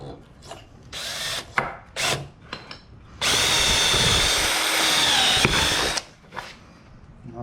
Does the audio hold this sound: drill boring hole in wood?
yes